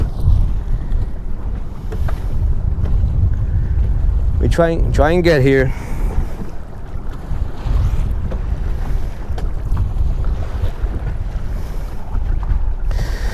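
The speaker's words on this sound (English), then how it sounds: "we're fighting the wind over here and the waves" Strong wind buffets the microphone while waves slosh against a fishing boat hull near a dam intake; someone speaks briefly over the steady roar.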